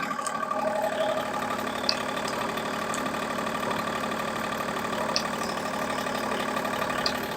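An ISEKI TU175 compact tractor fitted with a 1.6 m rotary tiller idles steadily at close range, its engine giving an even, chugging drone with a few faint clicks over the top and no speech.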